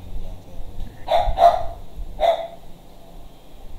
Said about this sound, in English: Who is that dog? This is your dog, ma'am?